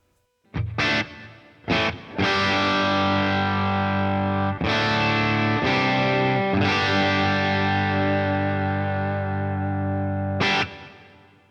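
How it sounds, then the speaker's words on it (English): Overdriven electric guitar through a Boss Katana amp, set with reverb and a touch of delay, plays a loud sequence of strummed chords, several held and ringing for seconds before a final short stab. "And just a little bit of delay as well."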